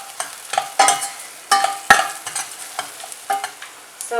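Garlic and other rasam ingredients cook in a pan as a utensil scrapes and stirs in short, uneven bursts over a faint sizzle.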